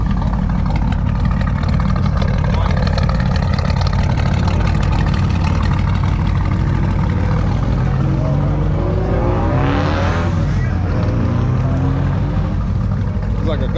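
A 2016 Ariel Atom 3S at a farmers market car show in Holt, Michigan, runs with a loud, steady engine note throughout, its pitch swelling briefly midway, as nearby voices carry over it.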